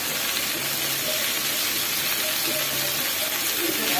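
Palong shaak chorchori, a spinach and vegetable curry, simmers under a lid in a pan with a steady, even steamy hiss and faint bubbling that never changes.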